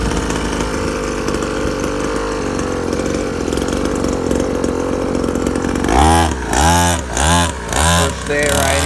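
The small engine of a SYX Moto Holeshot 50cc dirt bike buzzes steadily up close, then revs in several rising and falling pulls, with a voice heard in the background.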